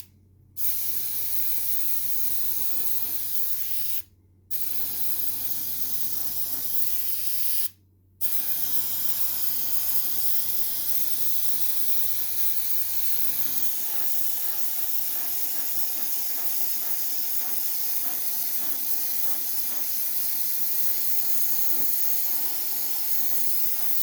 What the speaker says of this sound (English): I'm going to use Vallejo Surface Primer.